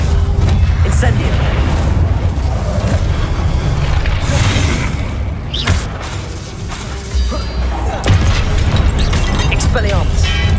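Incendio fire spell blasts in the Hogwarts Legacy video game amid combat, with loud booming bursts, crackling impacts and crashes layered over constant rumbling game noise, while a voice talks over it.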